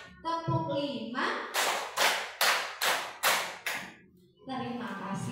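In a classroom, a group performs 'tepuk semangat' spirit clapping: five sharp, evenly spaced bursts of group claps, loud and close, between stretches of someone speaking.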